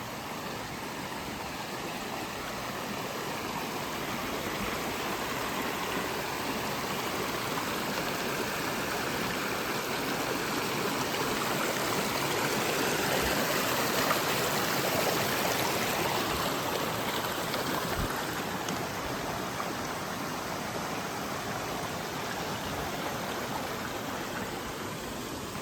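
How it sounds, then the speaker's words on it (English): A river rushes steadily at a crossing point, a broad, even wash of flowing water heard close and unbroken throughout, with no talking. "Oh, it's a nice river crossing."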